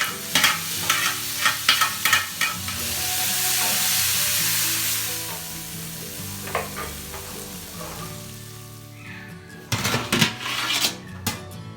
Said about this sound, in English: frying the chicken pieces in less oil